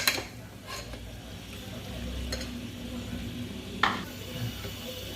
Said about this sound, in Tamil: எல்லாமே சேர்த்து மிக்ஸ் ஆகிற அளவுக்கு நம்ம நல்லா கிண்டி விடணும்